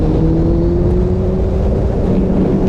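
Kawasaki Z900 motorcycle accelerating, a loud close engine drone with rising tonal pitch from the in-line four, heard alone and steady throughout.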